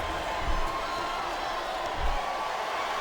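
Wrestling arena crowd at a WWE Cyber Sunday 2006 match rumbling in a steady, diffuse roar, with a couple of dull thuds beneath the noise.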